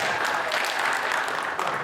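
Steady applause from an audience at a village council association meeting at a regional parliament office in Banyuwangi, a dense even clapping that holds throughout.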